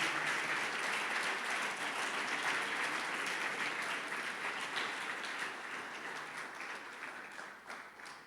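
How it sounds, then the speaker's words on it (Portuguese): A church congregation applauds during a Portuguese-language sermon, dense and steady clapping filling the room with no voices, slowly fading toward the end. "Você pode aplaudir o Senhor por isso?"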